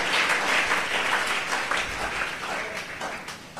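A church congregation claps and applauds steadily at moderate volume for a few seconds, with a dense, continuous patter of many hands.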